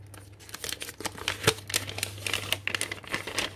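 A glassine-type bag and vintage orange envelopes are handled, producing close, irregular crinkling and rustling in quick bursts with no voices.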